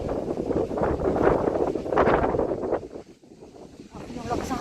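Strong wind buffets the microphone in heavy, uneven gusts, rumbling and roaring, easing briefly before picking up again, with a voice partly audible under it.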